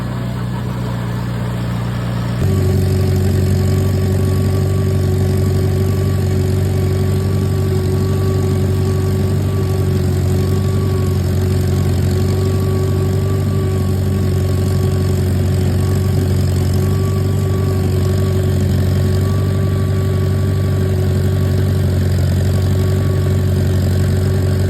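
An International Harvester Farmall tractor, a 130 or 230, idles at low throttle in an overgrown field, a loud, steady near engine drone with a low rumble and constant mechanical whine, rising slightly in level early on and holding without talk.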